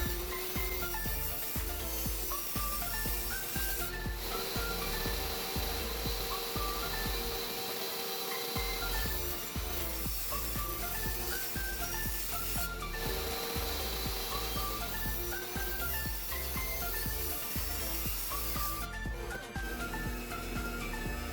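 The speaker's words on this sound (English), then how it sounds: "I'm going to cut each piece of this wenge into 2 thinner strips and 1 wider strip." A table saw rips wenge wood into strips, a continuous loud whirring drone that runs unbroken and close for about twenty seconds, with faint shifts in tone as the board feeds through the blade.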